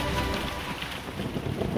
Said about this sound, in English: a terrible hailstorm began to fall on the Canaanites